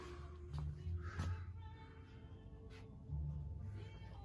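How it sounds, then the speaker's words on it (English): A cat meows twice, a few seconds apart, over the steady hum and murmur of a busy indoor model train hobby shop in Raleigh, North Carolina. "There's a kitty in here"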